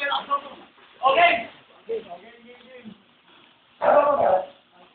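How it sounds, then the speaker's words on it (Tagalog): Dogs bark in short yelping bursts, a few sharp barks at the start, then louder ones about a second in and near the end, mixed with whimpers and people talking nearby. "Dogs."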